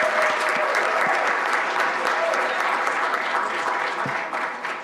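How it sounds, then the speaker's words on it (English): Audience at a school board business meeting applauds steadily, a dense crowd of hands clapping throughout that eases slightly at the end. "let's give her a round of applause."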